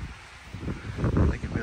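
Gusty wind buffets the microphone on the Grandfather Trail at Grandfather Mountain, North Carolina, a low rumbling roar that swells louder toward the end, with a voice faintly underneath.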